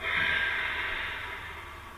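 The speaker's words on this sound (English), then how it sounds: "Contract the muscles and exhale." A single long breathy exhale through the nose or mouth during a meditation breathing exercise, close and steady, fading gradually over two seconds with no talk.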